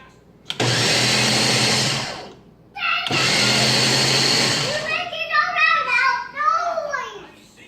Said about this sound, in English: I can't use the blender?